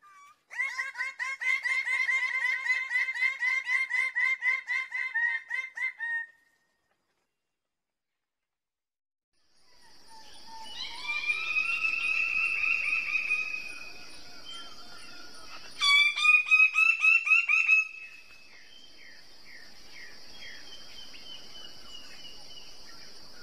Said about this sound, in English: the birds of paradise, which I'm going to cut to a video right now